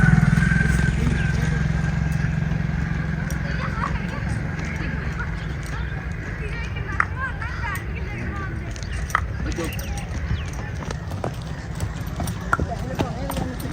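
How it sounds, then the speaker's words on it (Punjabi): Horse hooves clip-clop in scattered, irregular knocks over a constant low rumble, with people talking nearby throughout. "ਭਾਈ ਜੀ ਘੋੜਾ ਅੜੀ ਕਰ ਰਿਹਾ ਘੋੜੇ ਦਾ ਕੀ ਮਜ਼ਾਕ ਆੜੀ ਕਰਦੇ ਦਾ"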